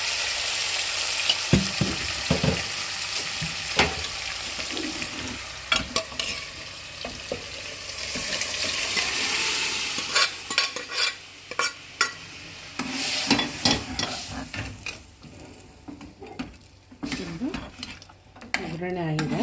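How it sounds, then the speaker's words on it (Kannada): Tempering for sambar frying in hot oil, a loud continuous sizzle with crackling bursts and occasional clinks of a spoon against the pan, the hiss easing toward the end. "ಸಾಂಬಾರ್ದು ಒಗ್ಗರಣೆ ಹಾಕ್ತೀನಿ"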